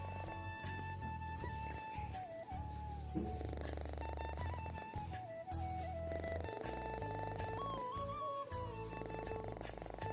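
A rain-soaked cat's low, continuous purr rumbles steadily up close, with faint melodic tones drifting in the background.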